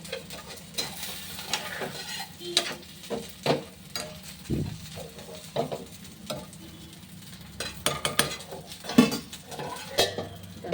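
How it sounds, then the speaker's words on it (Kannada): Fish frying in a pan, a steady close sizzle broken by repeated clinks and scrapes of a utensil stirring against the metal, with no talk. "ಫ್ರೈ ಆಗ್ತಾ ಉಂಟು"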